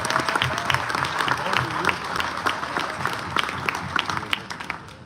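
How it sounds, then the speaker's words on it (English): Audience applause for military families aboard the cruise ship Odyssey of the Seas, dense continuous clapping from a large crowd, fairly close and steady, with some voices mixed underneath. "Can we get a huge round of applause for our military families, including husbands, wives, and children?"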